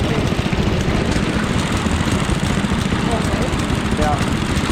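Rumbling engine of a TD-24 bulldozer, an old machine recovered from a swamp after 40 years, running steadily and loud at close range with a dense low throb, while people talk over it.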